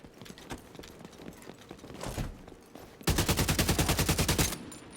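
AK rifle fired in the shooter game The Division 2, heard as scattered single shots and then a fast, loud, evenly spaced burst of about a dozen rounds.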